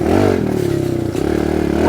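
A KLX 110R motorcycle's combustion engine runs steadily at mid revs, with a droning, close-miked tone and a slight dip and recovery partway through, while a voice talks over it.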